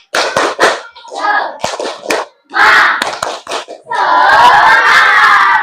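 Classroom group performing a rhythmic 'tepuk semangat' clapping chant, with bursts of sharp hand claps in patterned groups alternating with children's chanted voices, ending in a sustained loud group shout.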